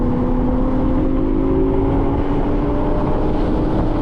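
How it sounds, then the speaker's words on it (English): A modified Toyota GR Supra's B58 engine drones loudly and steadily, climbing in pitch as it accelerates on a race track, with heavy wind rush and road noise throughout. "And now we're going to get on the throttle."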